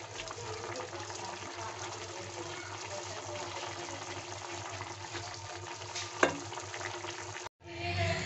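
Guar beans cook in a pan with a quiet, steady sizzle and faint bubbling, a single sharp clink near the end, then a brief cutoff.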